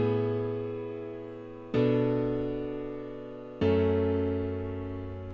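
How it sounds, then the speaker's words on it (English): Emotional piano chords for a vibe house track, three sustained chords struck about two seconds apart, each ringing out and slowly decaying, close and clear with no other sounds. "so we've made some emotional chords, and they sound like this."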